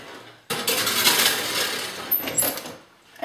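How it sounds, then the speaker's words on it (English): A metal baking tray holding caramel marshmallow slice slides into an oven with a clattering metallic scrape and clink, loud and close, then a brief rattle as it settles and the oven closes. "I'm going to put it in the oven."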